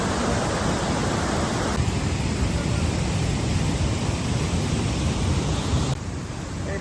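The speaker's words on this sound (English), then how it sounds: "So now we're at the bottom of the waterfall" Rushing water pours steadily at the bottom of a waterfall, a dense, loud, unbroken roar filling the whole stretch and easing slightly near the end.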